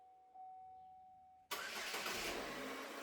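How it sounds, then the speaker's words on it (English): A car engine cranks and fires up after a fuse and relay box replacement, a faint electrical whine giving way to a sudden loud catch and steady running idle. "All that's left is to start the car and make sure everything is working as expected"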